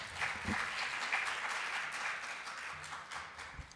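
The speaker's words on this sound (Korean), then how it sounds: "박수로 맞아 주시기 바랍니다" An audience at a digital economy forum session applauds a conference speaker with steady, even clapping that fills the room at moderate volume from start to end.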